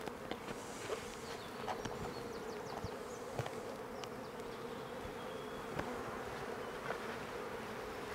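Honey bees from a nucleus colony being moved into a hive give a close, steady droning buzz, with individual bees flying past now and then in a quiet outdoor apiary.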